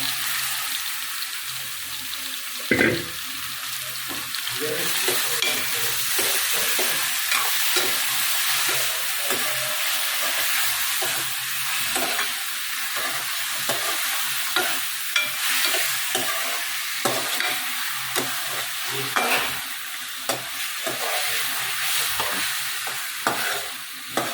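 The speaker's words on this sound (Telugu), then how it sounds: "ఇంకొక 5 మినిట్స్ రోస్ట్ అయిన తర్వాత చికెన్ తీసుకొని ఇలా వేసేయడమే." Chicken roasting and frying in a pan makes a continuous close sizzle, with frequent sharp crackles and the scrape of stirring throughout.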